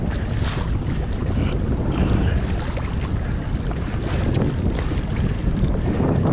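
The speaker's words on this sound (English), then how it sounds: "we're paddling into the wind there" Steady, roaring wind buffets the microphone without letup on Lake Superior while paddling into a north-northwest wind, with a faint wash of water underneath and no voices.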